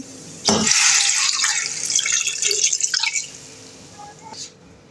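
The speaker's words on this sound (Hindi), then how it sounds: "पानी डालेंगे हम इसमें।" Water pours steadily into a metal pot holding beef for nihari, a bright splashing rush for a few seconds that tapers off with a few drips.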